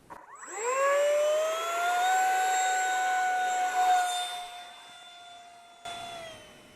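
Freewing F-86 64mm electric ducted fan RC jet motor spooling up at launch: a loud, rising turbine-like whine that climbs in pitch, then holds steady and near before briefly dropping and surging again.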